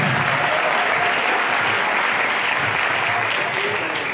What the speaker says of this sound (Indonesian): Kita tepuk tangan dulu buat Kapanas.